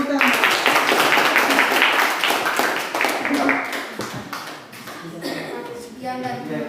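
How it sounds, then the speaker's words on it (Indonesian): Classroom applause as students clap together for a group presentation, a dense, steady burst of many hands that fades a little toward the end, with scattered voices mixed in. "Tepuk tangan."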